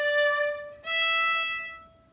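Bowed string notes in détaché style with some length: two sustained strokes with a slight break between them, clear and close, the second fading out at the end, from a bouree study.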